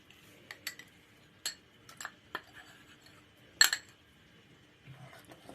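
A spoon stirs softened gelatin into hot melted sugar inside a metal ladle while halva is being made, giving scattered light clinks and scrapes against the metal with quiet gaps between them.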